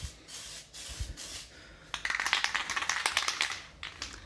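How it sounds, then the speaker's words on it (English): A few short hissing bursts of spray adhesive, then a steady, crackling aerosol spray for about two seconds, close by, during a Cadillac CTS-V brake replacement. "So you just put a light coat. It's like a spray adhesive."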